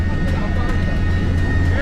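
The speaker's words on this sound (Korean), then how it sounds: "헬기 소음으로 의사소통이 어려운 상태지만" A military helicopter drones loud and constant during a casualty evacuation drill, a steady low rumble with a whining tone above it that fills the whole moment.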